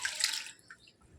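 Soaked rice and lentils for idli being rinsed in water: a short close splash and slosh for about half a second, then a faint drip and quiet.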